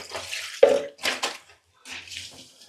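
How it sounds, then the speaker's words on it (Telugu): Clothes are scrubbed with detergent soap and water in a washing test, giving short bursts of splashing and wet sloshing separated by brief pauses. "కొంచెం వాటర్ పోసి ఉతుకుదాం"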